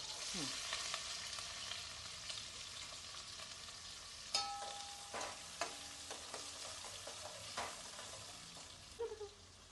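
Onion tossed into hot tempering oil: a continuous close-up frying hiss broken by scattered pops, with intermittent scrapes and clinks of a spoon stirring the pan.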